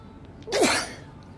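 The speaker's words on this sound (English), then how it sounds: "Pardon me, sneeze." A single sharp sneeze bursts out close by, brief and loud against quiet room noise.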